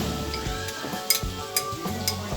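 Ginger frying in hot oil with browning onion and garlic for chicken biryani crackles and sizzles steadily, with a few sharp clicks of a spoon stirring the pan.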